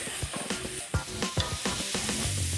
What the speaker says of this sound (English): we're just gonna slowly saute the zucchini, the red and yellow peppers, and the garlic